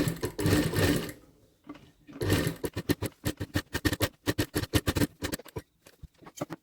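A sewing machine stitching blouse fabric runs in two short continuous bursts, then a quick, uneven series of rapid stitching pulses, close and fairly loud with no talking.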